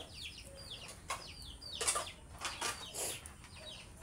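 Chickens with feather loss, a hen and her balding chicks, cluck and chirp in short high calls scattered across the clip, with a few louder flurries near the middle over a quiet outdoor background.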